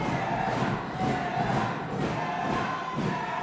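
A large wrestling show crowd roars and cheers continuously, a dense, loud wash of voices swelling and dipping in waves with occasional shouts, filling the arena.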